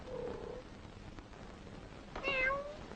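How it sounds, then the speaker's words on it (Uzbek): A cat meows twice in a quiet room: a soft, low meow at the start and a clearer, higher one near the end. "Mushukcha."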